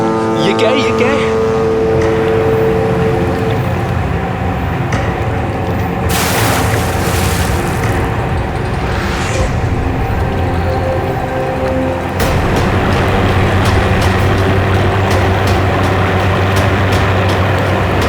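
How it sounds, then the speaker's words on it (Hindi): Deep, continuous engine rumble of a ship or cruise vessel on the water near Jabalpur, loud and steady throughout with a roaring surge partway through and heavier low drone near the end. "ये आवाज कहाँ से आ रही है? शायद कोई जहाज होगा।"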